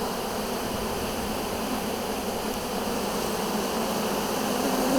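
A good-sized honey bee swarm in Kansas marches into a box to settle in, a loud, dense, continuous buzzing heard close up with no break.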